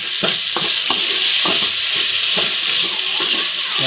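Garlic paste fries and sizzles in a pan for mutton curry, a dense, loud hiss running throughout, punctuated by repeated scraping knocks as a spoon stirs it, close up with no talking.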